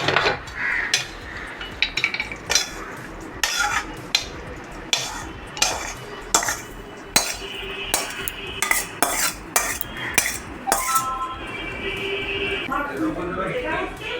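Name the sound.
stirring flattened rice poha in a pan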